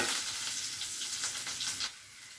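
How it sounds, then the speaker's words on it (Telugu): Curry leaves and garlic for a tempering sizzle steadily in hot oil, a dense close crackling hiss that holds for about two seconds, then drops off sharply near the end. "పోపు వేగిపోయిందండి"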